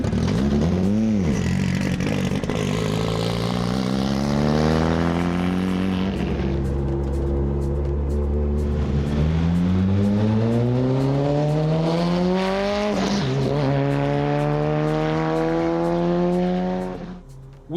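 A Honda-swapped Ferrari runs loud and close, its engine revving hard through repeated rising sweeps as it accelerates and shifts, with brief drops between pulls and no voices.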